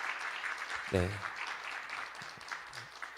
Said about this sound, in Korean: 박수로 축하해 주십시오